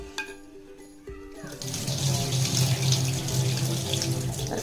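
Water runs from a tap into a sink while soaked rice is washed for making anarsa, a steady close splashing rush that swells after a few quiet clinks and continues without talk.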